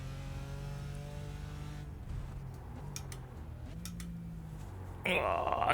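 A race car in the iRacing sim, a Skip Barber or Ferrari in a D class series, revs and shifts through gears, the engine note rising and dropping, with clicks and a louder burst near the end under occasional speech.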